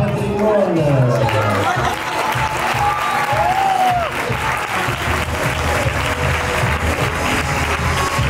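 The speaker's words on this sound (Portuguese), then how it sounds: "Palmas para Cirapa Patrimônia." An audience at a Christmas party fashion show bursts into loud, sustained applause and cheering, a dense crowd roar lasting the whole stretch with whoops rising over the clapping.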